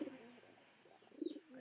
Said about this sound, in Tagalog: ipakita ko lang sa inyo yung dalawang kalapati